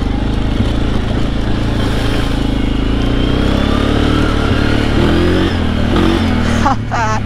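A Suzuki KingQuad ATV engine runs steadily and loudly up close, droning with some revving and shifts in pitch throughout.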